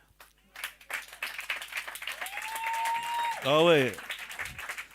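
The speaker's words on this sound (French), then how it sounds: "vous devez applaudir Manon" An audience at a religious seminar claps steadily in a reverberant hall, moderate and continuous, with voices calling out and speech over the applause.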